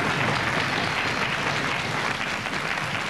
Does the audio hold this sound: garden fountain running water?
no